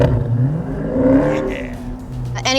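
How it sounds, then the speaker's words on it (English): A Dodge muscle car does a burnout on street tires, its engine revving hard and droning loudly as the wheels spin, with a brief higher whine toward the end. "The whole point of doing a burnout, spinning the tires until they make smoke, is to heat up the rubber"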